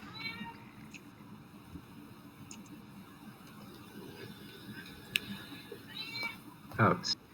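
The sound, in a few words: cat meowing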